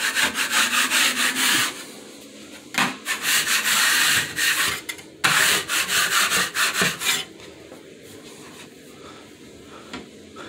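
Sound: sanding with sandpaper

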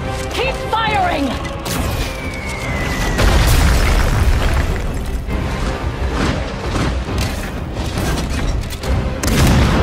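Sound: cannon fire explosions in a video game cinematic trailer

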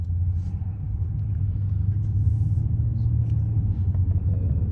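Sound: Toyota Celsior V8 engine sound inside the car

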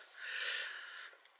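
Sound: sniffing

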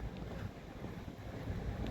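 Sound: wind

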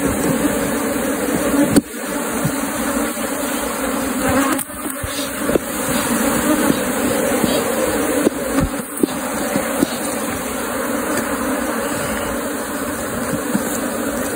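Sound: honey bees (Apis) buzzing at a hive box

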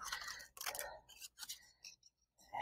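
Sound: scissors cutting a swirly piece of paper

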